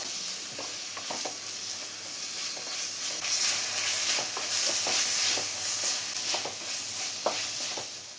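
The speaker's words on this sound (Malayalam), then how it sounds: "തക്കാളി നന്നായി തന്നെ ഒന്ന് വഴറ്റിയെടുക്കാം." Two chopped tomatoes sautéed in a pan for chicken kurma, a steady frying sizzle with repeated light spatula scrapes and taps throughout, swelling slightly louder midway, no speech.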